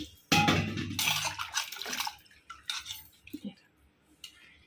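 Water poured into a pot while washing grated coconut, a loud splashing gush at the start followed by sloshing, swirling and a few light clinks of the pot, close by.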